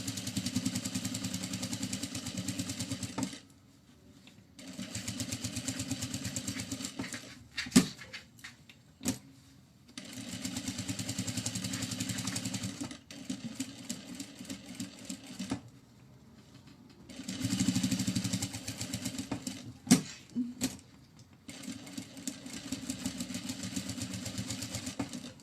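Sewing machine topstitching a fabric pouch, running in several long steady bursts separated by pauses, with a few sharp clicks between stitching runs, close and clear with no talk.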